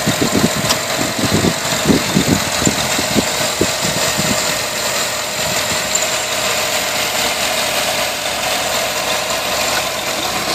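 A 5.3-liter V8 in a 2008 Chevrolet Avalanche idles under the open hood, a steady close mechanical hum with rough low-end pulsing that smooths out after a few seconds.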